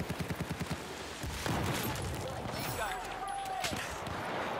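A burst-fire gun shooting in Battlefield 4, a quick rhythmic string of sharp shots at the start followed by further gunfire, explosions and game noise, with a voice talking over it.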